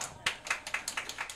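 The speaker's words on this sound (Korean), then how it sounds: "자, 일단 큰 박수로 한번 보내주시기 바랍니다." Sparse clapping at a political party event, a handful of distinct claps in a slow, uneven rhythm, quiet and close.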